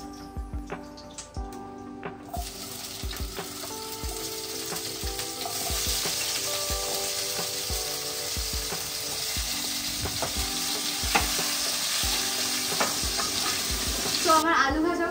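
Long potato strips fry in hot oil in a kadai after fish, a steady bright sizzle broken by the repeated scrape and clack of a spatula stirring, with no one talking.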